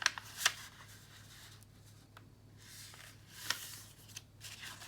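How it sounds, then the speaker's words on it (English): Origami paper folded in half, then opened and folded in half the other way, giving a few sharp crisp paper creases and soft rustles, quiet and close with no talking. "And once again, you open up, and then fold in half the other way."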